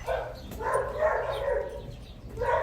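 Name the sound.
puppy yelping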